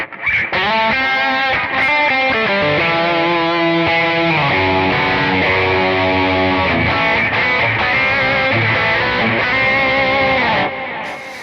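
A heavily distorted, high-gain electric guitar played through a Kemper profiler on an "Obliterate" preset plays sustained chords and notes, thick and saturated, with no voices.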